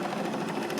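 A Bendini rod motor spins on a dual flux generator near peak speed, producing a steady, fast mechanical whir with an even buzzing texture at close range for under a second.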